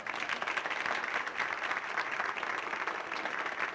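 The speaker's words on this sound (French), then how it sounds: "On va les applaudir, les maires." An audience at a French-Canadian evening gathering applauds the mayors, a steady dense clapping that fills the whole stretch without a break.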